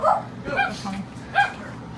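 A dog at a gate gives short yips and whimpering barks, three brief outbursts over two seconds, close and fairly loud against a quiet background.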